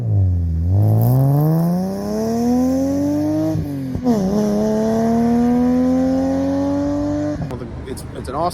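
A BMW E36 M3 inline-six revs up in long rising sweeps with a raspy tone, close and loud, dipping briefly between pulls, with no talking over it.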